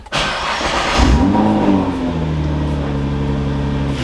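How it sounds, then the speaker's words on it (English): A Nissan GT-R R35 engine, fitted with a flex fuel kit, cranks and catches, then settles into a steady, close idle with a low, even hum. "we'll go ahead and start the car"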